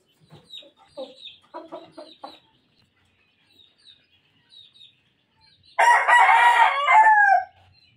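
A young gamecock stag clucks softly in a short series, then crows one loud, close, drawn-out call near the end, in a quiet yard with no voices.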